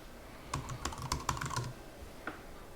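Someone types a password on a computer keyboard during online checkout, a short quick run of close key clicks followed by a single later tap, over faint steady background noise.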